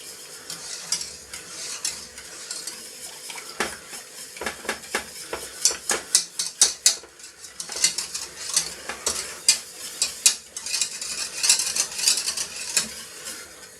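Smoked-fish milk sauce for a fish pie stirred in a pan, with a run of quick, uneven scrapes and clinks of the utensil against the metal over a soft background hiss, close and fairly loud, with no talk.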